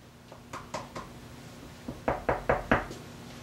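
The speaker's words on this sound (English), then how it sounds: "Tina, can you knock on what's ever behind you there and make a sound?" Knocking on something in a room during a paranormal investigation, a few soft taps followed by four louder, evenly spaced knocks, close with a quiet hiss behind.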